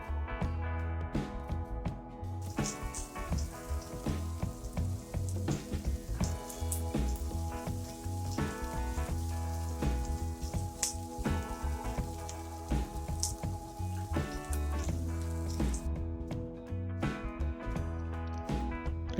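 Chopped green chilies and onion sizzle and crackle steadily in hot oil in a pan while a mint chutney is being made. The frying stays at a moderate level throughout, with no voices over it.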